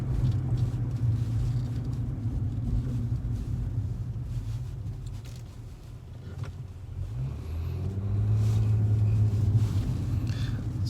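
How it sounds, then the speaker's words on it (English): A 2011 Nissan Maxima 3.5 SV with CVT transmission on a test drive, heard from inside as a steady low engine and road drone that swells into a smooth rising hum near the end, with no talking. "it's a little bit of a different sound driving this car because this is a CVT transmission"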